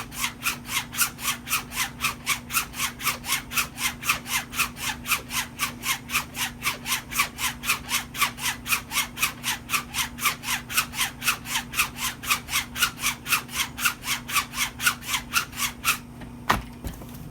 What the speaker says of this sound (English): I always go to the fire hose strop after I come off the stone.